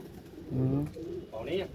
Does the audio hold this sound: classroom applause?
no